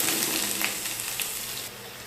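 Chopped onion frying in two tablespoons of hot oil with whole garam masala for hilsa fish korma, a steady close sizzle with faint crackles and occasional stirring, no voices.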